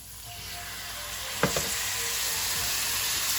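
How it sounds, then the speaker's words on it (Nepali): Tomato added to spices frying in a pan for a Nepali kubhindo masaura and potato curry, a steady close sizzle with a brief louder splash and crackle as the tomato goes in. "अब म यसमा टमाटर राख्दैछु।"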